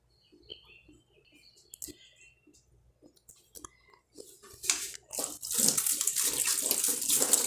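Water runs steadily from a tap while yams are peeled under it, growing louder and fuller partway through, after scattered soft clicks and handling noises.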